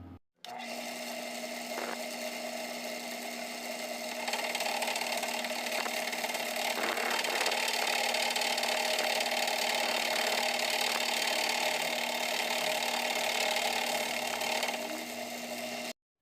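A milling machine takes a flattening pass over a workpiece surface, cutting its height from 3 mm to 1 mm during the build of an electric scraper. It gives a steady, continuous mechanical whir with a constant tone throughout, and no talk.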